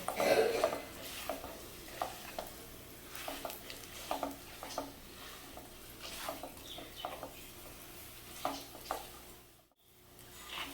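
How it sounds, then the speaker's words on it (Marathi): Ground dates are sautéed in ghee over a low-to-medium flame. Soft, repeated stirring and scraping strokes sound over a faint background sizzle, fairly quiet and close, with a brief gap of silence near the end. "आपण जे खजूर वाटून घेतलं होतं ते घालणार आहोत आणि थोडा एकजीव होईपर्यंत आपल्याला परतून घ्यायचं आहे तुपामध्ये लो टू मिडियम फ्लेमवर"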